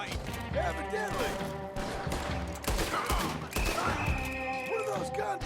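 Gunfire rattles in Red Dead Redemption 2, a fusillade of shots under character dialogue, mid-loud and fairly steady across the short stretch.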